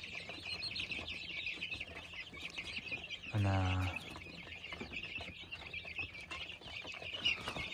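Young chicks cheep busily in a coop where roosters squabble, a constant high chirping chorus with clucks underneath; someone speaks briefly partway through.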